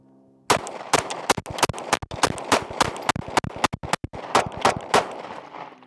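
Rapid rifle gunshots firing Herters aluminum-cased, nylon-jacketed ammunition made by Blazer, a loud, close string of sharp cracks in quick uneven bursts, about two dozen shots over several seconds with brief gaps between groups.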